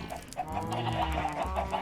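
A chicken in a video game clucks and squawks after being struck, a short burst of agitated fowl calls repeating close and loud with no talk over it.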